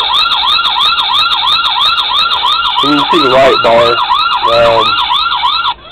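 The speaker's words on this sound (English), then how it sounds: "That siren will change over here in just a second." A loud police car siren on a Dodge Charger wails close by in a fast, repeating yelp cycle while someone talks briefly over it.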